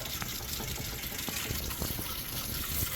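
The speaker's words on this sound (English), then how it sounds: "And now I'm gonna do a little more cold water." Cold water gushes steadily from a tap over washed potato fries, a continuous loud splashing flow with no pauses.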